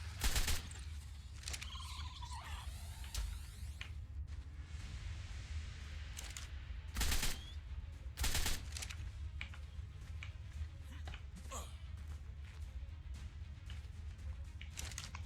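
Rifle fire in the video game ARK Fjordur, a handful of sharp separate shots in an irregular rhythm, standing out loudly over a low, steady rumble of game ambience, with no talking.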